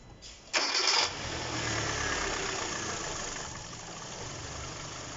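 A Kia Cerato engine starts and idles after its alternator was replaced and the belt refitted; a brief loud cranking burst gives way to a steady, even idle that fades slightly toward the end.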